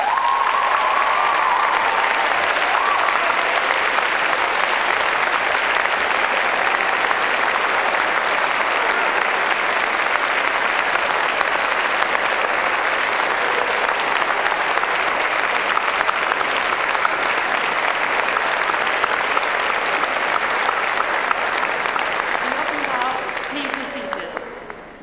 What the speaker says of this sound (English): giving them a warm and enthusiastic round of applause